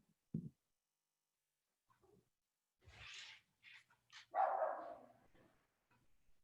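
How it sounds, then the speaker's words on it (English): A dog barks a few times in a quiet indoor room during an online video call, short separate bursts with gaps, moderately near, and a voice or two speaks faintly. "It's not my dog."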